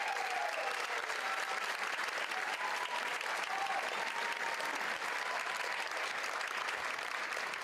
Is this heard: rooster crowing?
no